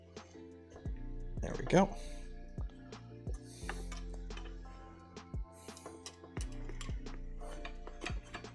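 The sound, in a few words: tightening M5 screws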